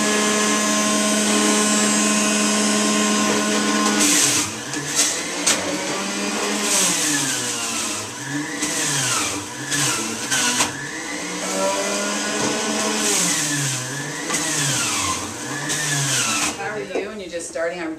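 An electric juicer running at speed while apples and oranges are fed into it: a loud, steady motor whine with shifting, wavering pitch as the fruit is pressed, continuous throughout and close up.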